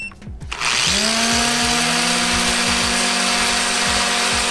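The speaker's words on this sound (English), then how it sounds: "we're going to run all 6 of these power tools at once" Six power tools roar together, powered by an EcoFlow battery, after a brief quiet start, a steady layered whine with rhythmic thumping cutting through, loud and close.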